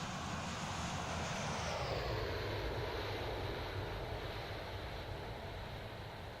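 MD-80 airliner engines roaring steadily during the climb in a flight simulator game, a broad continuous rumble and hiss with a slowly falling whine, no talking.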